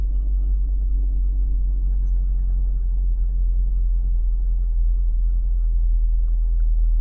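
A 2017 Holden Commodore's engine idles steadily, a low, constant rumbling hum with no revving, close by and heard on its own without talk.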